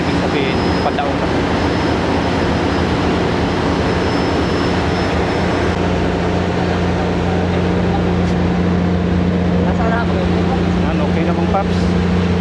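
Steady droning engine noise aboard a ship as it docks, a broad continuous rumble with a low hum throughout, with someone speaking briefly over it.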